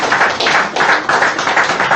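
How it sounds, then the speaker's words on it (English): Debate audience clapping in a strong, rhythmic unison beat, loud and close, repeating about every quarter second with no talk over it. "Please, let's keep clapping our hands till they come forward."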